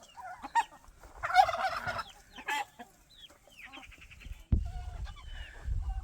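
Poultry birds call in short, scattered bursts at moderate distance, with a few sharp squawks and rustling noises between them.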